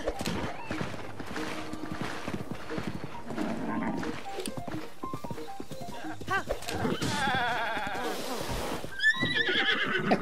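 Horse neighing and hoofbeats in the video game Zelda Breath of the Wild, a busy layered game soundscape with whinnies rising above steady activity, mid-loud throughout, with a voice briefly speaking.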